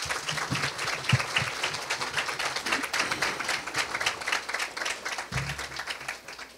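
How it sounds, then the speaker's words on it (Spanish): Audience applause at a conference marking an anniversary of a national archive, a steady dense patter of many hands clapping together throughout, with no talk over it. "ahora vamos a recibir a todos con un fuerte aplauso"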